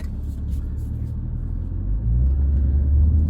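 A 2005 Audi TT Quattro's 3.2-litre VR6 engine rumbles steadily from inside the car while driving, its low drone swelling slightly as it picks up speed.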